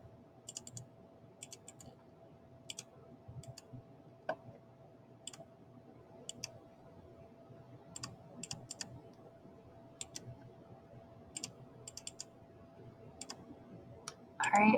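A calculator's keys are pressed while entering functions, giving sparse, light, close clicks. Single taps and quick pairs are spaced irregularly over a quiet background.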